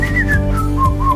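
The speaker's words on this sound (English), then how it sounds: "they're just walking down the hall whistling" Someone whistles a short, clear melody as they walk down a dental office hallway, loud and close, with a few gliding notes and no talking.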